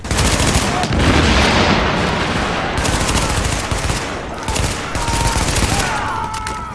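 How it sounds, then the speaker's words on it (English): Dense, loud gunfire and a grenade blast in the video game The Division, with sustained rapid shooting and booming impacts crowding the scene, plus faint voices underneath. "We're gonna go ahead and toss a grenade right there."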